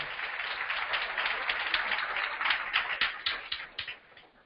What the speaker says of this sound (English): Can we give Selenium a round of applause?